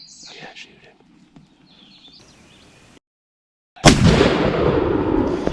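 One sudden loud shotgun blast at a wild turkey during a spring hunt in the eastern mountains, followed by a long echoing rumble, after quiet woods with birdsong and a low voice.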